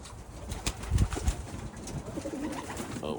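Young pigeons in a backyard cage give soft, low cooing with a few close, dull bumps and flutters, steady and alone with no voices.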